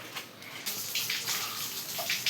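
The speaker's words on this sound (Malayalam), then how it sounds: "ഇനി നമ്മൾ പാത്രത്തിൽ വെള്ളം എടുക്കുക." Water pours into a bowl in a steady splashing stream that starts abruptly and runs on with shifting gurgles.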